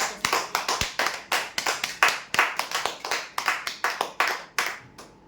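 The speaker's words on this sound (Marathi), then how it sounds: "जोरदार टाळ्या द्या" An audience at a prize draw claps for winners, a rhythmic run of sharp, fairly close handclaps at a brisk, uneven pace, loud and continuous with brief gaps between bursts.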